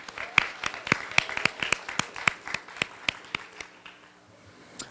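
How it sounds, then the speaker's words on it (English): A small audience claps for Big Event committee members at an SFA proclamation gathering, sparse separate hand claps in a loose irregular patter that thins out and stops after about four seconds. "let's give a round of applause for the Big Event committee members"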